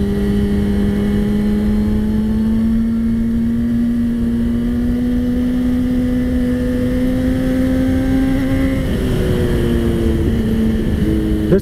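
A motorbike engine hums steadily as the bike rides over rocks on a trail, the pitch holding then shifting near the end as the load changes, with no talking.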